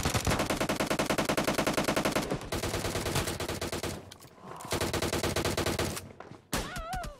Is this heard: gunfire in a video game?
yes